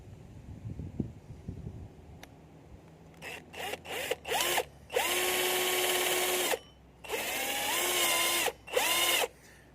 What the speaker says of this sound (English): So I'll drill this out